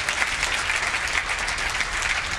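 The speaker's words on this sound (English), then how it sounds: "Give her a big round of applause." A large audience applauds a guest with dense, steady clapping that fills the room evenly, loud and unbroken for a couple of seconds.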